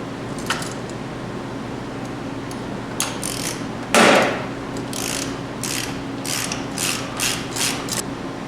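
Clutch tool being screwed into the clutch of a Ski-Doo 800 XP snowmobile, giving a run of close metallic ratcheting clicks in quick bursts with one louder clunk partway, alone without talk.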